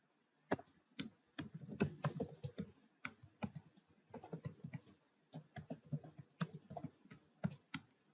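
Someone types on a computer keyboard in a quiet room, crisp clicking keystrokes arriving in irregular quick bursts with short pauses between them.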